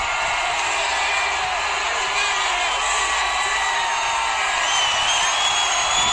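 A large outdoor crowd in Times Square roars steadily in the seconds before the New Year ball drop, a dense, continuous wash of cheering and whooping with a broadcaster's voice talking over it.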